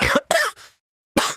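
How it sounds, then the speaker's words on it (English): A man coughs weakly in short harsh bursts, two close together and a fainter third, then another after a brief pause, heard up close and alone. "He laughed in a weak voice and started to cough."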